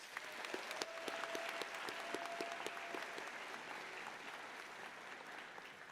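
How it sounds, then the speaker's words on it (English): A crowd at a university commencement ceremony applauds steadily, dense clapping that holds its level and then eases slightly toward the end. "a round of applause"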